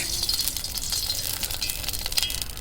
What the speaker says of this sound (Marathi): पिठी करायला पातेली ठेवलेली आहे. हां त्यात आता तेल टाकते.